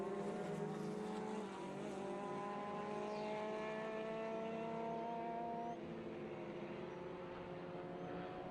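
A Lola T70 Mark 3B race car running at Sebring, a distant, faint, sustained engine whine with steady rising harmonics that eases slightly before the end.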